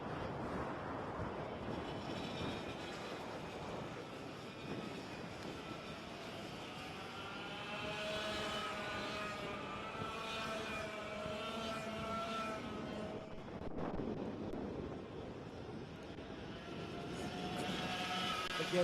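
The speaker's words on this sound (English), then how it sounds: "this is 100cc two-stroke racing engines, air-cooled, single speed" Several 100cc two-stroke air-cooled single-speed racing kart engines in a junior race, a pack climbing a hill with overlapping high-pitched buzzing and rising, falling revs that hold steady throughout at moderate distance.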